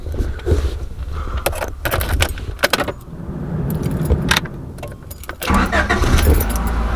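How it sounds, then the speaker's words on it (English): A Honda Civic with newly replaced O2 sensors: keys jangle near the ignition, then the engine cranks and catches, settling into a close, steady idle. "Okay, let's start this thing up."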